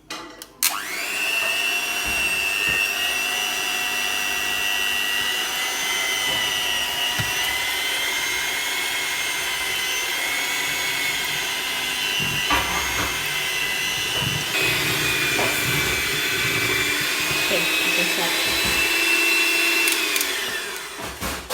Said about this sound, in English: you take your whisk and you whisk it. Whisk it away